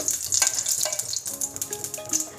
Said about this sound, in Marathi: खिरीसाठी मी इथे पातेलं तापून घेतलेलं आहे आणि त्यामध्ये आपण असं गावरान तूप जे आहे ते घालणार आहे